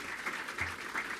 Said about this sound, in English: Let's give our Dean another round of applause.